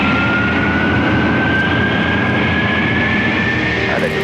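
Concorde supersonic jet climbing out of London Heathrow after throttling back, a loud, continuous roaring engine wash with a faint steady whine running through it.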